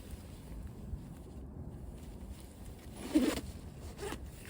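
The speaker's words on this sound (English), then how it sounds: "when you zipper the coat back up," A short zipper pull on a North Face McMurdo parka rasps once near the middle, fairly close, over a soft steady background hiss.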